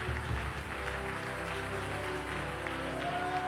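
A church congregation claps and cheers steadily through an evening prayer session, a dense, continuous wash of applause that stays loud from start to finish, with a tonal instrument-like line rising near the end.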